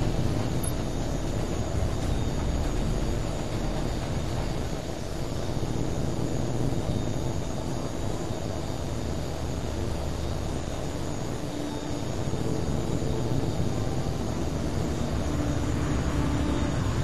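A fighter jet in the combat flight game H.A.W.X 2 roars steadily as it takes off, a loud, continuous engine rumble with a thin whine on top that holds for well over ten seconds without talk.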